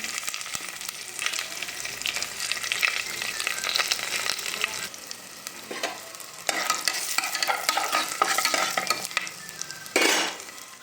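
Dry red chillies and asafoetida frying in hot oil for gongura pappu: a loud, continuous sizzle with repeated scraping and clinking of a spoon stirring the pan, surging in short bursts.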